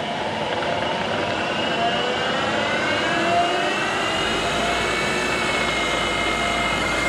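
A machine spindle winds up toward 3000 RPM, producing a loud, steady mechanical whir with rising tonal whine lines that climb in pitch as it spins up. There is no talking.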